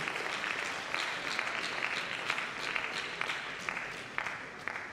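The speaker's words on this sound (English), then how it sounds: "Please clap for him" A ceremony audience applauds steadily throughout a graduate induction and oath-taking event, a dense continuous wash of many hands clapping with scattered louder claps standing out, no talking.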